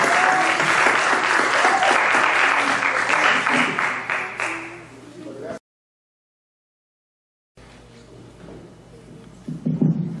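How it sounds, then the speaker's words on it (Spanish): Strong, dense applause from an audience greeting a municipal president rings out for about five seconds and then fades, followed by a silent gap and quieter room noise with a few claps. "Fuerte el aplauso."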